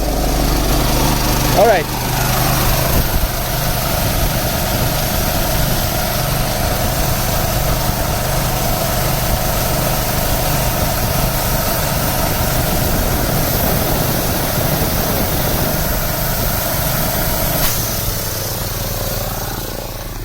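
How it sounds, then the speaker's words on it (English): An air compressor runs while a sprinkler system is being winterized, a loud steady mechanical drone that continues throughout with a brief shift near the start, as someone speaks briefly over it. "we start the other compressor, no problem"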